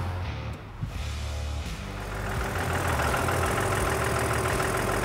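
A truck engine fitted with a screamer turbo, after sitting for years, turns over and settles into a loud, steady idle with a harsh broadband rush and low rumbling pulses, growing fuller after the first couple of seconds.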